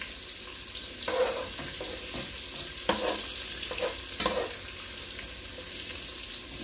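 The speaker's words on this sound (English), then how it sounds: "I'm sauteing the bacon so you guys can see how the bacon is being sauteed." Bacon sautéing in a pan as the start of a clam chowder, a steady close sizzle with soft stirring and scraping sounds, no talking.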